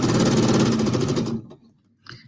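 A sewing machine stitching the final seam of a quilting project, running steadily and loudly for over a second before stopping, followed by a brief faint clatter.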